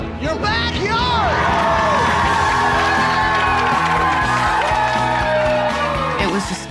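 The Studio Percussion crowd cheering, whooping and yelling together in a loud, sustained roar, with high shouts rising over the dense mass of voices, near and energetic throughout.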